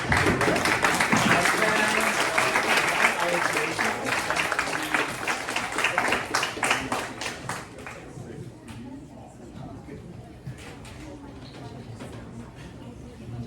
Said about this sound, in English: let's have the round of applause to Professor Robert.